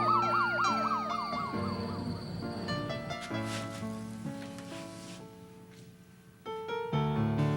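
An ambulance siren wails in rising and falling sweeps at the start of a television drama scene, then gives way to other sustained tones and background sound.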